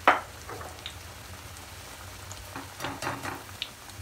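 Bhajiya fritters fry in hot oil over a medium gas flame, giving a soft, steady sizzle with a few brighter crackling bursts and no voices.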